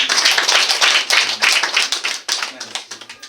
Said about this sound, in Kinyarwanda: muha amashyi bwose